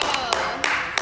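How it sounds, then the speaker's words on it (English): Four sharp hand claps from a podcast host, evenly spaced and close to the microphone, each crisp and bright, with a low murmur of room tone between them. "I'm sorry if the claps are too loud."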